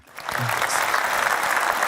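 Audience applause on a Turkish show, a burst of clapping that swells quickly and holds steady and fairly loud, with a brief voice at the start.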